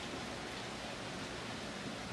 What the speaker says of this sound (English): Now we got a nice steady drizzle here in Derry